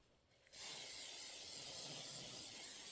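A steady hiss of spray adhesive applied to quilt fabric, starting abruptly after a brief quiet moment and continuing evenly and close by.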